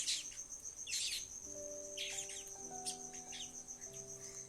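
Birds gathered at a feeding spot chirp in short bright bursts over a faint background, the calls coming in irregular clusters at moderate distance.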